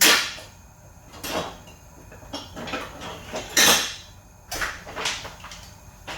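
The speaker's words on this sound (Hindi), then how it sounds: "तो हम ध्यान से इसको चम्मच चलाते जाएंगे और इसको ड्राई रोस्ट करेंगे।" A metal spoon scrapes and clinks against a pan as semolina is dry-roasted for a winter egg halwa, with irregular sharp knocks and scraping strokes, close and fairly loud, no talking.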